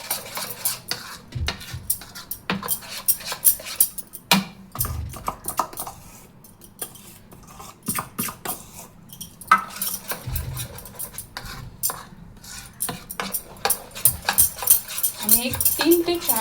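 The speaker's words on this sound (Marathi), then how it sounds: "आता हे डोशाचं बॅटर पूर्ण मिक्स करून घ्यायचं आहे चांगलं।" A spoon clatters and scrapes rapidly inside a bowl as tomato dosa batter is mixed, a dense, irregular run of close metallic clicks and taps lasting many seconds, with a voice talking at times.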